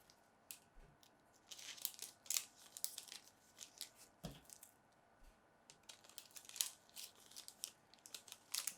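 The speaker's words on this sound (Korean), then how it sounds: "이 비닐에다가 이렇게 쏙 넣어주시면 됩니다." Pepero sticks slipped into a plastic packaging bag, with close crinkling and rustling of thin plastic in irregular bursts and a couple of soft thumps.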